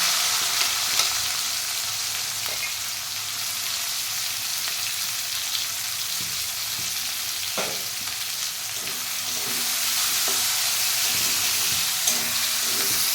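Chopped onions fry in a pan with bay leaves and garam masala for a dhaba-style chicken curry. A steady close sizzle runs throughout, with occasional stirring clinks and scrapes and no talk.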